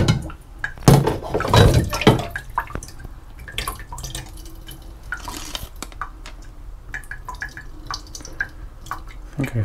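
Water drips and splashes in a sink during processing of Adox HR-50 film, with irregular near clatters, trickles and a burst of running water early on.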